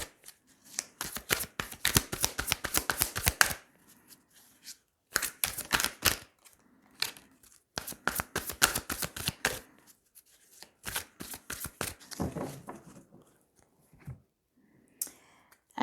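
A deck of tarot cards is shuffled repeatedly in quick riffling bursts, close and crisp, with pauses between runs and a final cut of the deck.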